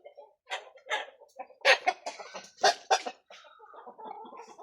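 Black Qora Shag'zoda roosters clucking close by, a run of irregular loud clucks and squawks with short gaps, no talk.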